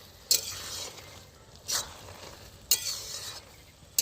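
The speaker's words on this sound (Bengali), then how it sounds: "খুন্তি দিয়ে এইভাবে আমি একটু একটু করে দিচ্ছি, ঘাটা ঘাটা হয়ে যাচ্ছে" A metal spatula scrapes and mashes bottle gourd and egg curry in a pan, making four short scraping bursts at an uneven pace over a soft, steady sizzle, close and moderately loud.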